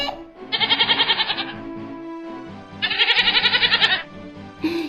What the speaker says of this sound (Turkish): bak bu küçük olan keçi